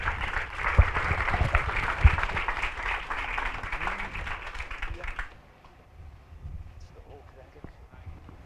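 An indoor ceremony audience gives a round of moderate applause for a speaker, steady clapping for about five seconds before it stops abruptly, leaving a quiet room with faint murmurs.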